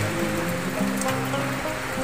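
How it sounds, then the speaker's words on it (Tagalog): A dense, continuous wash of heavy rain on a mountaintop hisses steadily across the whole stretch, with faint tonal hum beneath and no talking. "nabutan po kami ng malakas na ulan dito"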